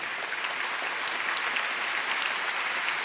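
An audience claps together in an indoor stadium, a dense, even wash of applause sustained throughout at steady loudness, with no voices over it.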